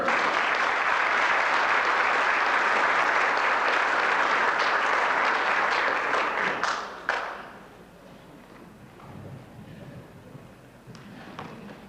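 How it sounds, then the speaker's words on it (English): A crowd at a super late model racing banquet applauds a driver: steady, full clapping for about seven seconds, ending in a sharp thud, then settling into soft room noise with faint movement. "Big round of applause, everybody, for Dean Carpenter"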